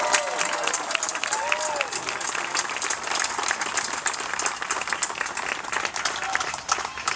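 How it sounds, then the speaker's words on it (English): Rally crowd in Raleigh applauds Senator Brent Jackson, steady dense clapping with scattered cheers and voices throughout, loud and continuous for the whole stretch. "Y'all need to give a round of applause for Senator Brent Jackson"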